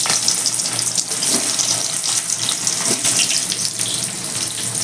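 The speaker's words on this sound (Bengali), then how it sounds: "তেলটা গরম হয়ে গেছে এবার আমি প্রথমে আলুগুলোকে একটু ভেজে নেবো আলুগুলো দিয়ে দিচ্ছি" Small potatoes sizzling in hot oil in a kadai, a steady dense crackling hiss throughout at close range, with no talking.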